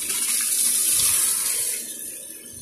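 Water gushes steadily out of a fire protection pipe being flushed during a hydrotest, a loud continuous hissing rush that eases off slightly toward the end.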